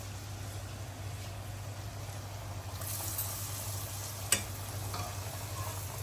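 Pakon pitha, a decorated rice-flour cake, frying in hot oil in a home kitchen, giving a steady soft sizzle and bubbling that runs throughout, with one brief sharp click partway through and no talking.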